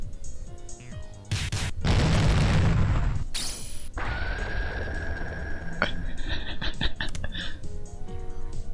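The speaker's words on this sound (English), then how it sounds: "A rumble shook the classroom." A loud rumbling boom effect from the Higurashi When They Cry visual novel shakes a classroom scene, a heavy low burst followed by ringing tones and scattered clatter, with no voices.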